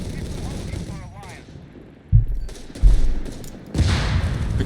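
Battlefield gunfire and heavy impacts from the real-time strategy game Company of Heroes 3, with sharp bursts and several loud booms under a commentator's steady talk.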